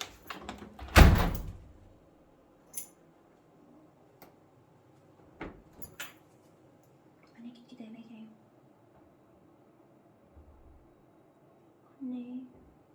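A door is opened, a loud sliding knock and rattle near the start followed by scattered softer clicks and thumps, with quiet voices murmuring intermittently.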